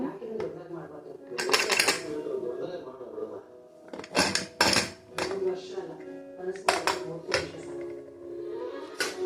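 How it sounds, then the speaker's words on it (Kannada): Metallic clanks and clinks ring out as a pressure cooker holding spinach pulao is opened, with bursts of loud handling between quieter moments and a person talking throughout. "ಕುಕ್ಕರ್ ಓಪನ್ ಮಾಡೋಣ."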